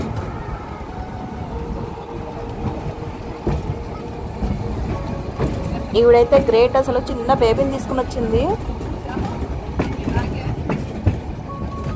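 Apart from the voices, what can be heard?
wooden open-top field railway train running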